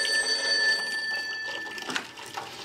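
A telephone rings indoors in a home, a bright electronic trill heard close and fairly loud for over a second before fading into quiet room noise.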